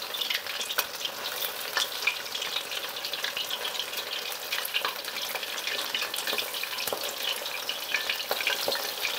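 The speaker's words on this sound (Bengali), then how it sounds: "আমরা 1 মিনিটের মতো এদিকটা ভেজে নিয়েছি। এবার আমরা এটা ঘুরিয়ে দেবো।" Chicken wings deep-fry in hot oil in a home kitchen, a steady, close crackling sizzle with dense popping bubbles that continues evenly throughout with no talking.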